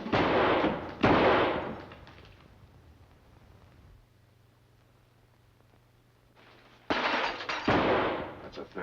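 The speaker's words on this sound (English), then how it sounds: "That's a .38 caliber belly gun you got there, Hanson. It's a six-shooter. And you fired your last shot." A .38 caliber six-shooter belly gun fires in a 1942 whodunnit film: loud, sharp shots in two bursts, with a stretch of quiet low hum between them.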